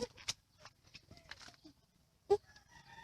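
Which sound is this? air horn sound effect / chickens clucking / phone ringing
chickens clucking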